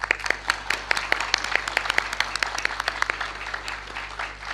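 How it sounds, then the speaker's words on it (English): Steady audience applause at a formal lecture honouring a Nobel laureate, distinct claps ringing out at a brisk, even rhythm over a low hum. "Ladies and gentlemen, please give him another big round of applause."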